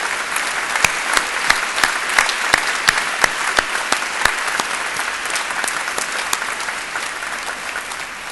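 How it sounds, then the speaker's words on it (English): An audience at a university graduation ceremony in Cardiff claps for families and friends, giving sustained, moderately loud applause with distinct individual claps standing out close by. "give a big round of applause to all the family and friends and grandparents, sons, daughters who are here today"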